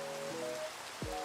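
Rain falls in Minecraft Java Edition with shaders, a soft, even patter under faint tonal game music, brief and without talk.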